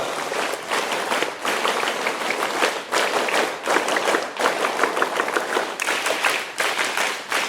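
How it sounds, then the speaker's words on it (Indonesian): A crowd at a scout ceremony performs the Pramuka clap in unison, loud, dense rhythmic bursts of clapping separated by brief pauses, repeated in patterned sets. "3 kali tepuk pramuka."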